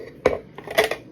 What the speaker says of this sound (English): I'm going to add some ice cubes just to keep everything nice and cold